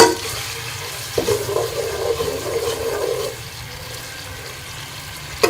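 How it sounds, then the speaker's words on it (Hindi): Garlic-ginger paste sautéing in hot ghee for chicken nihari, giving a steady frying sizzle for about two seconds before it fades, with a short stir or clatter at the start and another at the end. "इसमें हम लहसुन अदरक का पेस्ट शामिल कर लेंगे और इसे 1 से 2 मिनट के लिए हम सौते कर लेंगे।"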